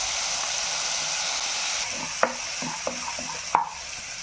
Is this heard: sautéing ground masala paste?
yes